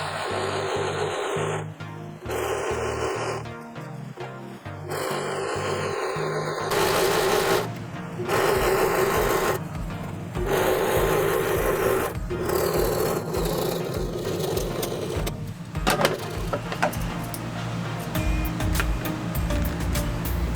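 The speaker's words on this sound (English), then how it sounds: "I try not to sew over my pin, stopping before each one to remove it." Sewing machine stitching waterproof fabric for a hunting stand cushion, running in bursts of rapid mechanical whirring and needle chatter, close by, with brief pauses between runs as the machine stops and restarts.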